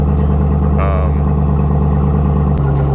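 A Ram TRX's engine with an AWE aftermarket exhaust runs in a steady, loud rumble for the whole stretch. Its note is smooth and continuous, and the deep tone shifts slightly near the end.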